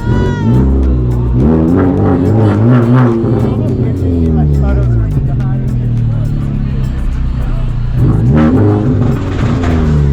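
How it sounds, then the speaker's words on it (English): A tuned car engine revs up close and loud, rising in pitch early on and again near the end, with people chattering and calling out around it. "Rev it real quick. Tell him to rev it."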